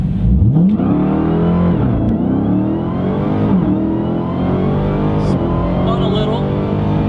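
A Dodge Demon launching from a dig, its engine revving hard with rising and falling pitch as it accelerates, loud and close from inside the car, with brief tire spin and faint voices in the cabin.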